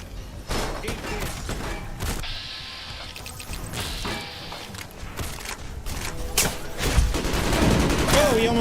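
Repeated service rifle gunfire in Fallout: New Vegas, sharp cracks spaced irregularly across the stretch amid clattering game sounds, with a voice briefly audible near the end.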